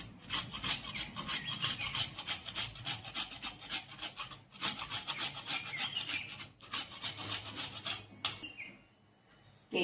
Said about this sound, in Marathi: थोडंसं जायफळ घालणार आहे, ताजं ताजं किसून असं.